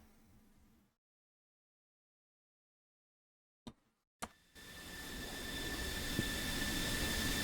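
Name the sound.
JF-17 Thunder jet taking off down runway, video game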